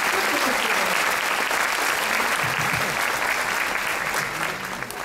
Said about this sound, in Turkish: Rukiye İslam'a kocaman bir alkışla teşekkür ederim.